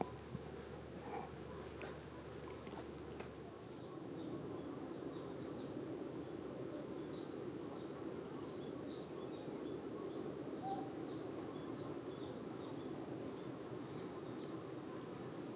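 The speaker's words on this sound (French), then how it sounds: "dans la forêt côtière où les cigales chantaient bon train" Cicadas sing in a South African coastal forest at uMdloti, a continuous high, steady buzzing that thickens after a few seconds and carries on evenly over a dense insect chorus.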